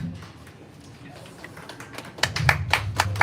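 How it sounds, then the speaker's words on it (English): At a Miss Universe franchise press conference, scattered hand claps begin after a quiet stretch of murmuring and build into light, uneven applause from a small audience nearby. "Applause for Miss Erica."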